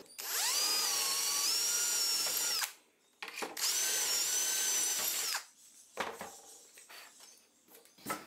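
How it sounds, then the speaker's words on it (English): A power drill whines loudly through two long bursts drilling holes in melamine, about two and a half seconds each, with short pauses and softer handling clatter afterward. "Now you'll notice this does drill quite a nice clean hole"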